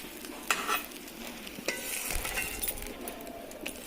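Fish frying in a wok with dry chilli, bay leaf and whole cumin, a steady sizzle broken by stirring scrapes and light clinks of a utensil, close and moderately loud.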